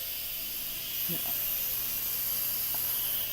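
Steam hisses steadily from an Instant Pot pressure cooker as it vents during cooking of chicken, a constant loud broadband rush lasting throughout, with a person talking briefly over it.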